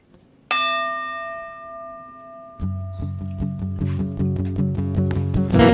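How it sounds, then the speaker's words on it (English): A single bell strikes once and rings out with a long, clear decaying tone to open a radio show segment, then music with steady rhythmic beats takes over and builds in loudness. "going to ring you in with the bell"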